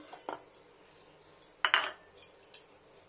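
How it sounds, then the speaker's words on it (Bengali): Metal kadai being cleaned in a home kitchen during vegetarian paneer cooking, giving a few separate clanks and scrapes of metal, with one louder clattering burst in the middle and a lighter knock near the end, no talk. "আর কড়াইটা একটু ভালো করে পরিষ্কার করে নিই।"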